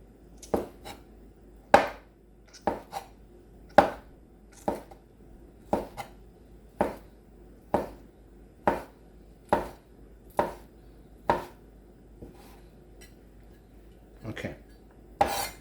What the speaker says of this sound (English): so we cut up the one shiitake mushroom